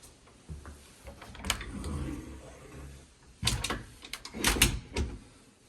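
A coat closet door at a house entrance is pulled open and snags on something, giving a muffled rolling slide followed by several sharp knocks and clatters as it catches, close and fairly quiet.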